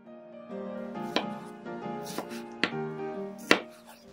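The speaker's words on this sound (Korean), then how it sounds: "토마토를 작은 크기로 자르면 끓이는 시간이 줄어들고 목넘김도 좋아요." Tomatoes are chopped on a cutting board with a knife in a handful of distinct, uneven knocks, close and moderately loud over soft background music.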